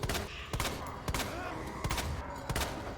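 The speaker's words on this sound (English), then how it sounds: "Shooting him a few times." Gunfire from the Resident Evil 2 video game: five loud, sharp shots spaced about half a second apart in a steady rhythm, each followed by a brief echoing tail.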